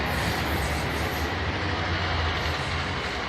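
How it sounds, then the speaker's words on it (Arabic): A passing train heard from a bus, a continuous heavy low rumble with rolling wheel noise, steady and loud for the whole stretch. "هذا قطار"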